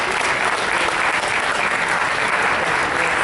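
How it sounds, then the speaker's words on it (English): Steady, dense applause from an audience at a charity auction, loud and continuous without a break and with no talk over it. "applaud away by all means, because Kieran, yes."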